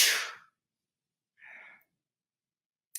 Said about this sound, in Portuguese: Deixa eu espirrar.